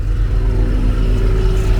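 A BMW X6M with a rough-running engine idles loudly at a gas station, a deep steady rumble with a slight rise in revs, heard close and alone.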